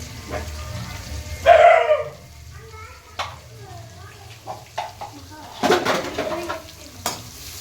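Onions dropped into hot oil in a home kitchen, a burst of sizzling followed by intermittent stirring and scraping, with a dog barking a few times in the background and someone talking over it.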